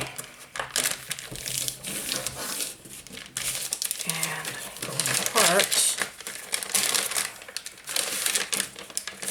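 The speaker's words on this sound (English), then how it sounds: "And I'm gonna fold this." Sheets of paper for a junk journal being folded and creased by hand, with repeated crinkling and rustling bursts at close range, mixed with intermittent talking.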